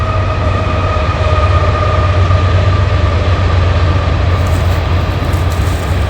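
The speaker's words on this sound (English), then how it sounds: "we got a train coming by here, CSX train, right there." A CSX freight train rolls past near a wooded spot, a loud, steady rumble and rail roar holding at one level throughout, with faint tonal hums above it and no one talking.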